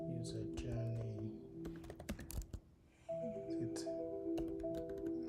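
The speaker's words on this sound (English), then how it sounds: "I'm sorry for the typing" Keys clatter on a computer keyboard in irregular bursts during a live app-building coding session, with tonal background sounds and some speech-like activity around the tapping.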